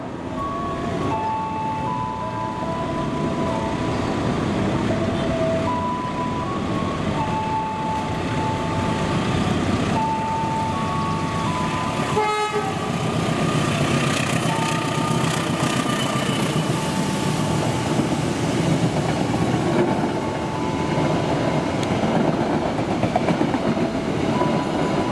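A passenger train runs through an Indonesian railway station with a continuous, steady rumble and rail clatter. A horn-like tonal note shifts midway, and a sharp metallic burst sounds around the halfway point.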